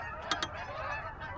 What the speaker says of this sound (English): Got a flock of geese going over his head